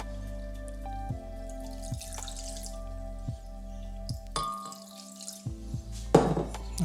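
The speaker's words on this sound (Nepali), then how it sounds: "हामी थोरै पानी हाल्छौँ हैन" Water trickles and drips steadily into a blender holding mango and banana for a smoothie, with a hollow splashing texture and a few clinks near the end, no talking.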